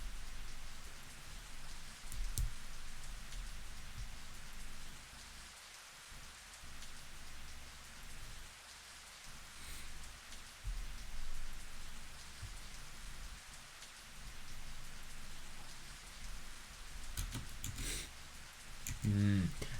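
Rain falls on trees along a muddy road in a video game scene. The patter is soft and continuous, with a voice talking faintly underneath and a brief louder burst near the end.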